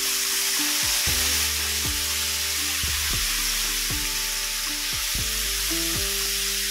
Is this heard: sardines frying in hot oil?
yes